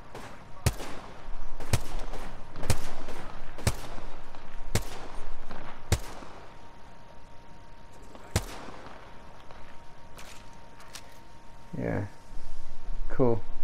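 Gunfire rings out in the Apex Legends video game as sharp, separate shots spaced about a second apart, loud and close, with players talking over them.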